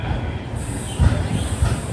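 A train carrying a blue ICF East Central Railway coach rolls past on the Bengaluru–Mangaluru Gomteshwara Express route, a close, steady low rumble of wheels with a couple of heavier thuds, no voices.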